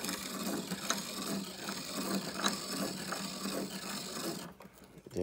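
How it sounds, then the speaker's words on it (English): Piston ring for a boosted LS engine turned against the cutter of a hand-cranked ring gap filer, a faint, continuous rasping grind with small ratcheting clicks, stopping near the end. "I'll butt one side up against the filing mechanism. Make sure it's flat, and then just turn it."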